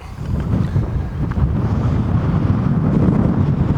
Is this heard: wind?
yes